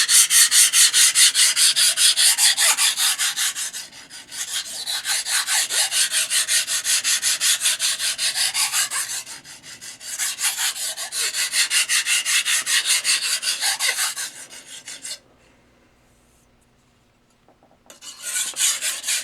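A chipped knife edge is thinned on a sharpening stone with long, steady rasping strokes in close, loud bursts, broken by a brief pause near the end before the grinding resumes.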